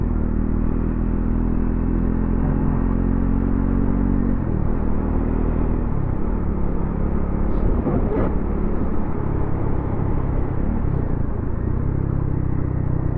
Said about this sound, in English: I do like that exhaust note though